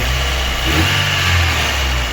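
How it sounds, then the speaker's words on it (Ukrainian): A Daewoo Lanos 1.5 engine idles steadily after a cylinder head repair, a close, even, low hum with a slight mid-range rise partway through and no voices. "все прокачано, радіатори гарячі, моторчик просто шепче"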